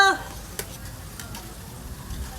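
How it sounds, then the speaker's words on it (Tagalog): Butter shrimp being stirred in a pan as the butter melts, giving a low steady sizzle with a few brief utensil scrapes and clinks against the pan, fairly close by and without talk. "Haluin mo muna, mabuti. Para matunaw."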